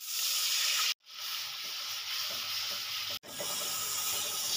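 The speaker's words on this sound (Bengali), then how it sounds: "পেঁয়াজ পেস্ট ভালো করে ব্রাউন কালার করে ভেজে নেব" Onion paste fries in oil with a steady, close hiss and soft crackle that drops out twice in brief gaps before resuming.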